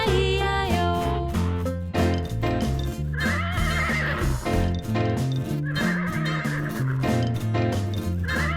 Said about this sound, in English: And on that farm he had a horse